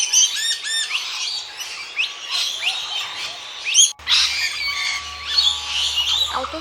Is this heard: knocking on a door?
no